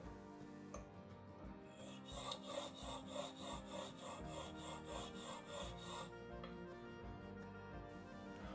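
A flea market tool edge worked on a coarse whetstone, steady rhythmic rubbing and scraping strokes, close and moderately loud, running continuously with no talk.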